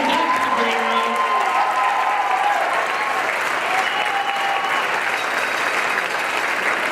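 A hall crowd gives a dance couple a loud round of applause at a charity dance competition, sustained dense clapping with some cheering, while a voice speaks over it near the start.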